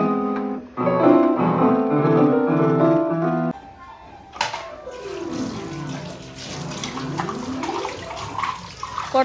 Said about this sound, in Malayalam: കുറച്ച് പാത്രങ്ങൾ ബാലൻസ് ഉണ്ടാകണം നമുക്ക് കഴുകി വയ്ക്കുക